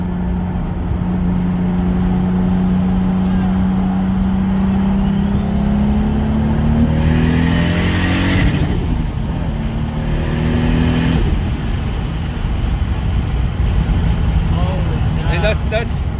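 Toyota Supra MKV fitted with a Tomei exhaust pulls hard through the gears, a loud engine note rising in pitch, dropping at a shift and climbing again, with people talking over it inside the car.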